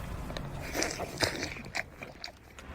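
Someone bites into a fresh melon with a few crisp, juicy crunches and chewing sounds, close and fairly quiet, over faint background noise.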